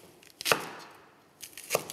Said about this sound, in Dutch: Ik ga witloof in julienne snijden.